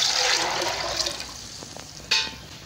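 Water poured into a pot of black chickpeas with onion for a curry, a rushing splash that tapers off, followed by a few small clinks and a brief second gush near the end.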